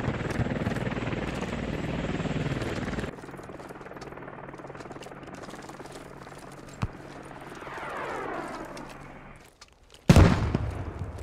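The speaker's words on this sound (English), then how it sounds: "Squad 3 Chopper taking hits from armor across the water from the southwest." Military helicopter in the game Squad taking hits from enemy armor across water, rotor roar steady and loud, then dropping in level, a sharp impact crack midway and a sudden heavy blast near the end.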